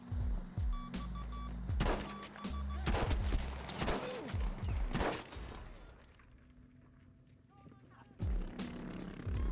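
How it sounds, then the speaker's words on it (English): Gunfire in a shooter video game: a run of sharp repeated shots in bursts, loud and close, with a quieter stretch in the middle before more shooting resumes; speech is also likely present. "someone's shooting at me"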